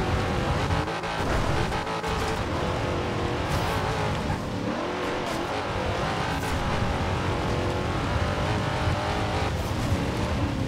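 A car engine roars as it accelerates hard in the racing video game Forza Horizon 2 Fast & Furious edition, a loud, continuous, close growl with shifting pitch and faint tire noise.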